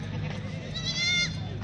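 Goats bleating at a livestock market in Lahore, with a wavering bleat rising briefly over steady background chatter and market noise.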